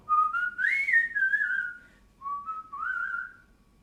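A person whistles a short melody in two clear phrases separated by a brief pause, close and unaccompanied.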